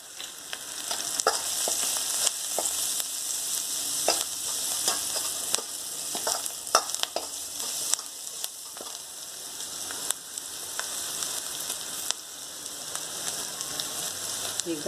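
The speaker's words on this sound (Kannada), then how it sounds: "ಈಗ ಒಂಚೂರು ಅರಿಶಿನ ಹಾಕೋಣ. ಹಾಗೆ ಇಂಗು ಒಂದು ಸ್ವಲ್ಪ ಹಾಕ್ತಾಯಿದ್ದೀನಿ." Turmeric and asafoetida frying in hot oil for a brinjal hasi gojju, giving a steady close sizzle with crackling pops and occasional stirring clicks throughout, with no talking.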